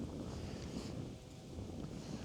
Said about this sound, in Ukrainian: Дуже потужний вітер